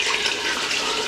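Water pours into a cooking pot over raw chicken for chicken paprikash, a steady, continuous splashing rush heard up close and alone.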